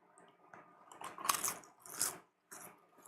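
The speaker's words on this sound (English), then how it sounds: "Trying to make sure you guys get to hear the crunch." Homemade barbecue potato chips are crunched close to the mic in three loud, crisp bursts of biting and chewing, separated by brief near-silent pauses.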